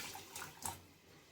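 Cooked lentils with their cooking water being poured into a pot for sambar, a faint liquid splash in a few short pulses that tails off into a quiet trickle.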